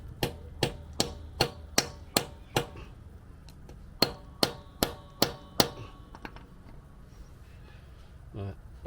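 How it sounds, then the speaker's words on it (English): A bolt from a Nissan Elgrand shock is hammered straight on concrete: two quick runs of sharp metallic strikes, six or seven blows each, separated by a pause, close and ringing. "I'm just going to belt this on the concrete, straighten that out"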